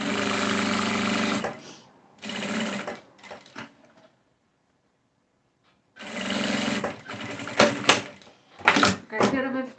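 A sewing machine runs in bursts while stitching a safety seam to join the folded parts of a simple handmade wallet, with loud whirring runs broken by pauses and a few clicks and handling knocks.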